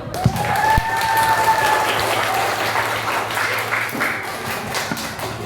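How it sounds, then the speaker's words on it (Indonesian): Audience applause at a santri public-speaking practice session at Hidayatullah in South Sumatra: sustained, fairly loud clapping from a crowd throughout, with a faint tonal whine and some murmur beneath. "Beri tepuk tangan dulu."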